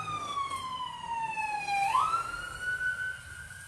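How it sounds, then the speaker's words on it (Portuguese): A nearby SAMU ambulance siren wails outside a home, a loud gliding electronic tone that sweeps downward then jumps higher as it passes, with no talk over it. "Momento ambulância."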